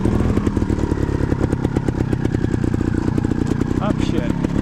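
A trials motorcycle engine runs steadily and loudly throughout, with a continuous rapid putter and rattle and no pauses, on a bike that had been kicked over repeatedly after a fall.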